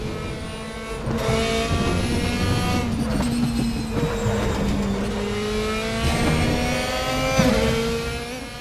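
Race cars in the Raceroom racing video game drone loudly and continuously, engine pitch rising and falling through shifts and corners, with occasional tire squeal and other cars passing nearby, and no voices over it.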